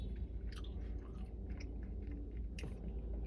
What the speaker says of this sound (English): I am just chewing.